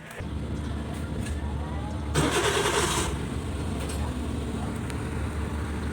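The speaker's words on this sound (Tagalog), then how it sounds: "So okay naman yung makina guys, uh, smooth naman siya mandar." A small Suzuki K6A engine in a multicab turns over, catches, and settles into a steady idle, with a brief burst of hiss as it starts.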